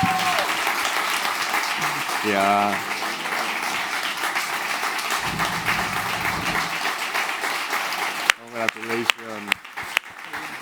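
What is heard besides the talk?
applause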